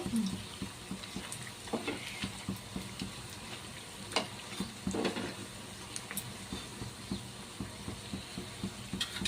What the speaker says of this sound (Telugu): ఫ్రై చేసుకోవాలండి ఆయిల్లో